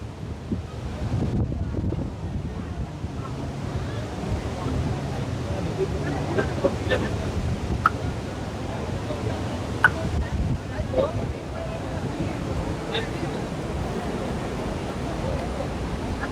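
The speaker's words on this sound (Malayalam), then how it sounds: "നല്ല കാറ്റുണ്ടാ." Strong wind gusts outdoors near Athirappilly waterfall, buffeting the microphone with a low rumbling roar that rises and falls beneath people talking.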